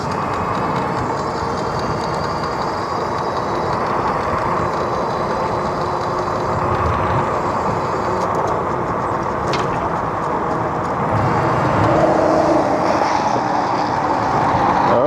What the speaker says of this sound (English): Let some of this traffic go by.